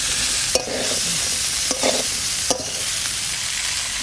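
Chopped vegetables tumble into a hot pan of oil for a vegetable biryani, raising a steady loud sizzle with three sharp clatters of stirring or dropping spread across the clip, with no talking.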